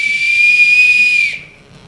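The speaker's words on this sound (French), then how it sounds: "Coup de sifflet comme pour la manœuvre d'un bateau." One sustained, piercing whistle blast of about a second and a half, like a ship's manoeuvre signal, heard loud and alone in an amateur stage show before it cuts off abruptly.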